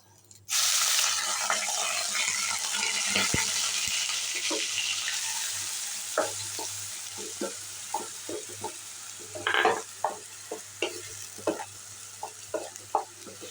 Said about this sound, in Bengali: পেঁয়াজটাকে একটু ভেজে নিতে হবে